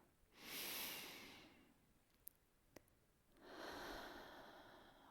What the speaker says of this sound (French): Vous respirez profondément.